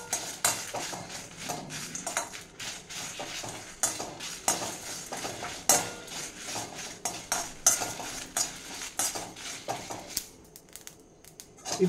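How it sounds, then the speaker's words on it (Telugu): Coriander and cumin seeds are dry roasted in a pan, stirred with a utensil that scrapes and clinks against the metal in quick irregular bursts over a faint sizzle, close by and with no talk. "ఇవన్నీ ఫస్ట్ డ్రై రోస్ట్ చేసుకుందాం మనం."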